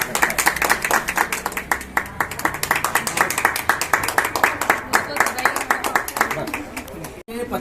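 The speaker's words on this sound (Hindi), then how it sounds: "आप लोगों से आशा करूंगा कि जोरदार तालियों से स्वागत करें।" An audience claps steadily and densely to welcome workers honoured for 25 years of service in a pulse polio campaign, the sustained applause filling the full stretch at a fairly even level until a sudden cut near the end.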